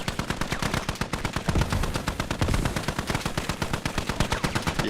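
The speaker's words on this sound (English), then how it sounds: "So I can hear the gunfire through your microphone" Gunfire relayed through a livestream microphone: rapid bursts of automatic shots in a dense, continuous rattle, slightly compressed and steady in loudness throughout, with no talk over it.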